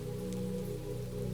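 Rain patters steadily over a forest glade, a continuous soft hiss of drops on foliage and earth at an unchanging moderate level, heard alone without speech.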